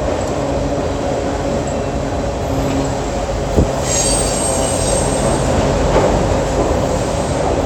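A freight train of auto rack cars rolls past near an old rail yard with a loud, continuous rumble. High wheel squeal is heard throughout, with occasional clanks.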